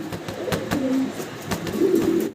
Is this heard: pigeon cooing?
yes